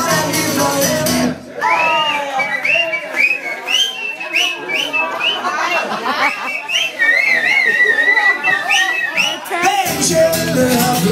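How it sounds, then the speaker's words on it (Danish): A group of people whistle together during a Danish birthday song, with wavering, overlapping melodic whistles carrying the tune for several seconds. Singing voices come before and after the whistling, and the sound is close and fairly loud. "Og hør nu her, hvordan vi alle fløjter vil."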